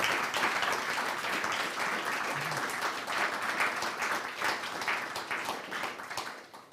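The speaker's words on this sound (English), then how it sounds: "Give him a round of applause." A conference crowd at a studio stage breaks into sustained applause, dense overlapping claps swelling and holding steady before tapering off near the end, fairly close and with no speech on top.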